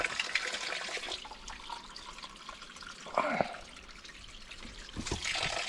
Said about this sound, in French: Puis ils nous ont dit qu'il y avait une belle petite source avec un mirador. Source pour prendre de l'eau dans la terre.